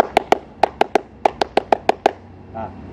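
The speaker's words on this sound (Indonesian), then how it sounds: "Nah, kalian tahu apa tepuk pramuka itu?" Indonesian scout rhythmic clapping, tepuk pramuka, rings out as eleven sharp, loud hand claps in a patterned rhythm of groups, close and alone, ending with a brief vocal sound.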